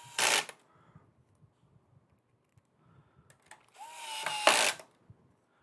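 A power tool drives screws while a PS2 console is reassembled: two short, loud whirring bursts close by, the second one longer, with quiet ticks and clicks of handling between them.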